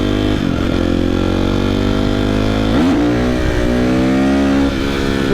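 A new motorcycle's engine revs hard, the throttle blipped so the pitch drops and climbs again in two rising sweeps over a loud, steady close drone, with no talking.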